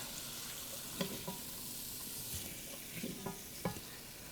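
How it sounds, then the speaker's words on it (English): Paprika and chili powder toasting with shrimp in a pan: a low, steady sizzle with a handful of light scraping and tapping strokes from the spoon, close but faint, no voices. "start kind of toasting them with the shrimp"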